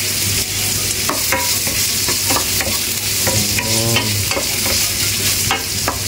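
Ginger frying in a hot pan, a steady broadband sizzle broken by sharp scrapes of stirring and a burst of rattling spatula clatter midway, loud and close with no voices.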